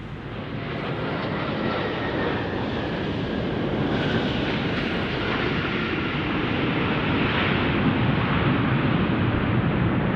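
An airliner arriving from Shanghai, China roars past, a loud, continuous jet engine wash that builds slightly and holds for the whole stretch.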